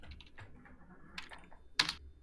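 A computer keyboard clacking, a handful of separate key presses spread out in time with one louder, crisp strike near the end, quiet and close against a faint hum.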